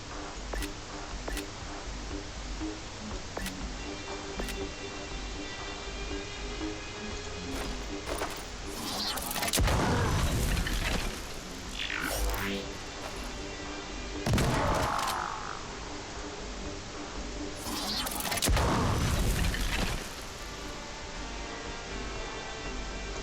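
Gunfire in a video game while targeting a sniper: scattered sharp shots at first, then several louder bursts of rapid firing spaced a few seconds apart, close and loud.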